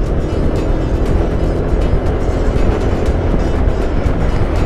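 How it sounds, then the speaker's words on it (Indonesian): A bus passing on a rural road between Petanahan and Karanganyar in Kebumen, a loud, steady close engine and tyre roar with wind-like rumble throughout. "Nah, ini ada bis juga yang lewat sini."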